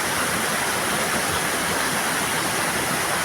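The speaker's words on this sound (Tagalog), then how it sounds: "Actually, they have a lot of falls." Waterfall near the Digusit rock formation in Baler, Aurora, a steady broadband roar of falling water, close, loud and unbroken, with no voices.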